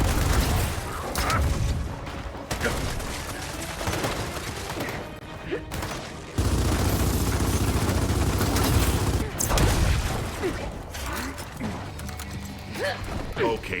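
A frag grenade blast and bursts of gunfire from the Gears of War 4 video game, with irregular heavy thumps, rattling shots and mechanical clatter layered under intermittent talk.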